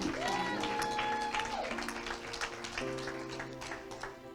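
Church congregation applauding together, a continuous moderate clapping wash with crowd murmur beneath, under a steady sustained musical tone.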